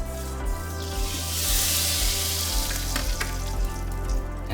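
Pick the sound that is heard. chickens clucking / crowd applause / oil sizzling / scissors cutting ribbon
oil sizzling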